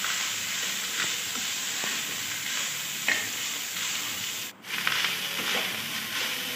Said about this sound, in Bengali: দিয়ে পুরো ফ্রাই করে আমি এটা নিয়ে নেড়ে নেড়ে ভেজে নেব।